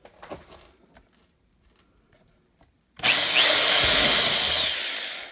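A power drill bores small guide holes for screws into wood while building a model railroad, starting after a few seconds of quiet handling noises with a loud, continuous whirring grind that gradually tapers off.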